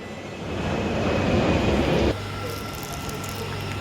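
A train moving through a West Sussex station in light rain, a broad rumbling roar that builds then drops abruptly to a lower steady hum with a faint whine, heard close by.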